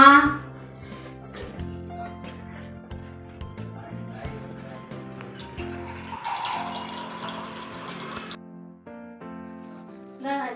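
Water is poured into a glass in a home, a brief splashing, gurgling burst lasting about two seconds amid people talking and background music.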